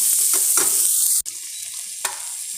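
Onion sautéing in a pan for a coconut chutney, with a steady bright sizzle, scraping stirring strokes, a brief dropout near the middle and a sharp clink toward the end; no voices.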